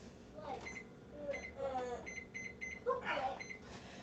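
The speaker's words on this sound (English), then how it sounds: "I'm going to set my timer." Kitchen timer being set for an oven bake, giving several short high electronic beeps in quick groups amid room noise and soft talk nearby.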